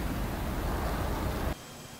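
Continuous broadband roar of an F-18 jet engine in the DCS flight simulator, loud and steady, then cutting abruptly to a much quieter hum near the end.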